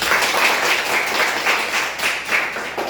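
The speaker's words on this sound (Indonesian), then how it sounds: "Berikan tepuk tangan dulu yang semangat" Classroom applause from students after a lesson, a dense, steady patter of many hands clapping for the full stretch, fairly close and even in loudness.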